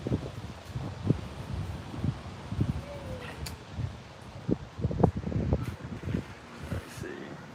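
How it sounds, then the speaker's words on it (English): Gusty wind buffets the microphone in uneven bursts and rumbles, rising and falling irregularly without a break. "That's still just as windy over there."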